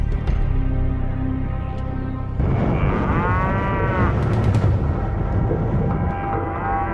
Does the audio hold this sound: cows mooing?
yes